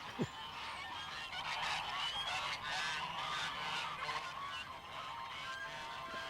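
A flock of geese honks overhead in flight during a snowy winter scene, a dense, continuous chorus of overlapping nasal calls at moderate distance, steady for several seconds.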